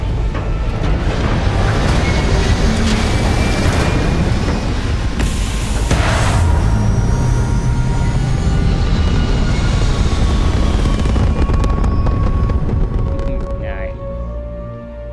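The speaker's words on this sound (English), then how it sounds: "All thrusters firing" A continuous loud roar of spaceship thrusters in Starfield surges and rumbles for the whole stretch with a deep engine drone, easing off near the end, with a voice talking over it.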